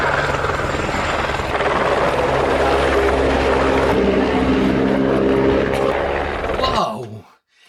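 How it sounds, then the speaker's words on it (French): A real Airbus AS350 helicopter flies close by, its loud, steady rotor thump and turbine roar continuing before cutting off abruptly near the end. "ça c'est l'AS350 en réel évidemment"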